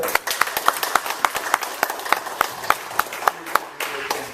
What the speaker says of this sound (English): So, can we give an applause for that?